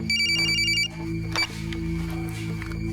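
A telephone rings in a TV crime drama, a call from a hospital: a rapid repeating electronic bell in short bursts over a low musical score, loud and close, then stopping as the music continues.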